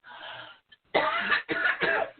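A woman coughs in several harsh bursts close to the microphone, with a short pause after the first one and the rest following in quick succession.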